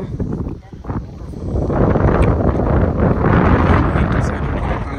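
Strong wind buffets the microphone in a loud, continuous roar that swells after the first second, with a voice briefly audible near the start, outdoors in rain near mountains around Tawang in northeast India.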